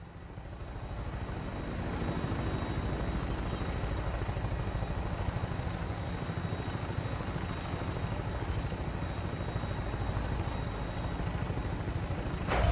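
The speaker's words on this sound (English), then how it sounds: "All systems go. We're clear for takeoff." An aircraft in the video game Fallout 4 lifts off with a steady, close rotor-like drone. It builds over the first two seconds, then holds as a constant, throbbing engine roar with no voices.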